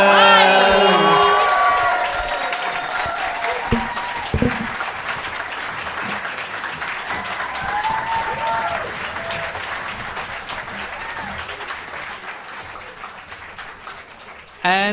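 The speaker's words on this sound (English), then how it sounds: "My God, that was a violent crowd." Live comedy podcast audience applauding and cheering at the end of a show, with steady dense clapping, scattered whoops and crowd noise filling the whole stretch, slowly tapering before a brief swell at the end.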